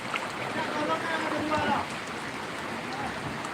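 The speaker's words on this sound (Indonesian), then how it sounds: "Mulai dari jam 6 sore tadi udah hujan lebat kayak gini." Dense, heavy rainfall in the Mandeh area of Pesisir Selatan, Indonesia, makes a steady rushing hiss, with a voice murmuring faintly under the downpour.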